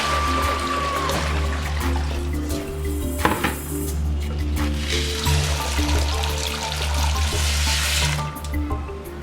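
Water splashes and pours into a container of beans set to soak for moimoi, with gurgling fill sounds, a sharp knock partway through, and a low steady hum underneath.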